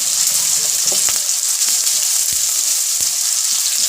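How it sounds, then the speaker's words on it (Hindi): Onions browning lightly in a pan for a luffa vegetable dish, a loud, constant sizzle with occasional stirring scrapes and small pops, no talking. "इसको हल्का ब्राउन करेंगे प्याज को"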